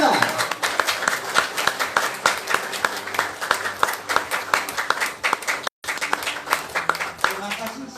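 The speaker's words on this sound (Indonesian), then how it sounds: "Tepuk tangan dengan bangkit berdiri, Bapak Rans Rektiwipo." A large seminar audience gives a standing ovation, clapping steadily and vigorously, dense applause filling the space with a brief dropout partway through and a voice faintly under it.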